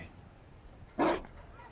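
A single short dog bark in a Dragon Age Inquisition cutscene, moderately loud against a quiet ambient background, lasting about a fifth of a second.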